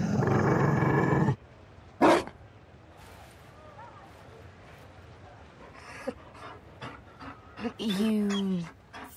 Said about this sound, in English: You found a dog.